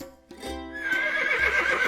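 A horse whinnies in one long, rising and quavering neigh, close and loud, after a brief low snort at the start.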